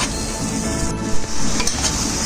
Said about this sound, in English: just mixing it up now, and just leave it for a little 2 minutes